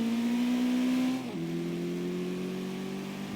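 Engine of an SUV racing off-road in Forza Horizon 3. A strong, steady tone holds, then drops sharply in pitch as it shifts gear, and the engine carries on droning loudly.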